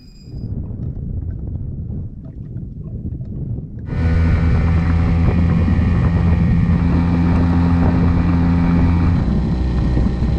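A Yamaha two-stroke outboard boat engine, running laps after an overheat fix, starts with wind and water noise, then bursts into a loud, steady, high-revving drone that holds to the end.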